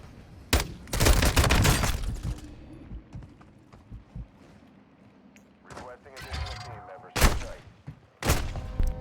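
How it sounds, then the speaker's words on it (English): Suppressed gunfire from Call of Duty DMZ crackles in sharp bursts ahead, several loud clustered shots separated by quieter gaps and softer clicks. "I've got some suppressed weapon fire going off ahead"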